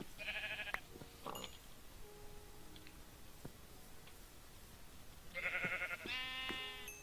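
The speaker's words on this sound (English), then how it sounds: "Okay, got some sheep." Minecraft sheep bleat in short electronic bursts, a couple near the start and a longer overlapping pair near the end, with quiet game ticks and clicks between them.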